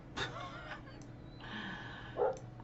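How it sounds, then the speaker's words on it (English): A dog barks indoors in the background, a few short faint yaps spaced across a couple of seconds, distant and quiet. "I have a dog barking"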